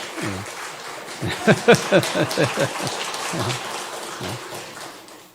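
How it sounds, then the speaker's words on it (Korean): A church congregation at a Sunday service applauds a new graduate, a steady patter of clapping running under a voice talking over it. "박수로 좀 격려해 줍시다"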